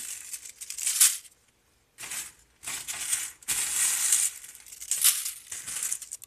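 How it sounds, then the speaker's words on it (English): Dried sweet basil leaves crunch and crackle in bursts, crisp and close, with brief pauses between handfuls and no talking over them. "the way that you know that the basil is dry and it's dry enough is that it's going to crunch"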